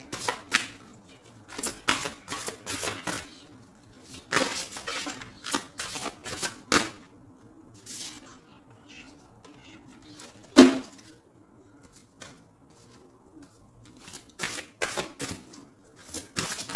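Oracle cards being shuffled by hand during a reading, a series of soft, crisp papery riffles and taps coming in irregular clusters with quiet pauses between, close and fairly faint, with no voices.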